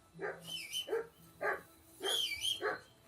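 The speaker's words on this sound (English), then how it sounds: "That dog of yours is barking like the devil." A dog in the Kingdom Come: Deliverance II video game barks and yips in about five or six sharp, close bursts over a quiet background.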